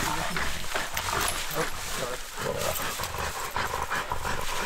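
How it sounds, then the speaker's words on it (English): A dog suffering heat stroke pants in rapid, rhythmic breaths close by during a Texas hog hunt, mixed with rustling, handling noise and outdoor background sound. "This dog's having heat stroke."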